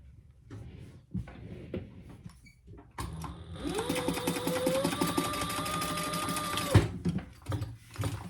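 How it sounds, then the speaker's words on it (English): A sewing machine stitches darts closed on the lining of a fabric pouch, running steadily for several seconds with a rising whir that settles into a constant hum. Soft handling noises come before and after the stitching. "So I'm just gonna sew those closed."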